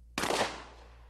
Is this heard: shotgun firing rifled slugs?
yes